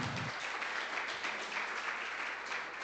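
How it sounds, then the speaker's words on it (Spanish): During a church service, a congregation gives a strong round of applause for the Lord, a continuous, fairly distant wash of many hands clapping together without speech. "Denle un fuerte aplauso al Señor"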